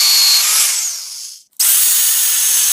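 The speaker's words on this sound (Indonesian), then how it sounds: "Kemudian diputar dengan bor dan diamplas dengan amplas merah" A power drill bores into a wooden knife handle, a loud steady whine that dips briefly and then resumes at full strength.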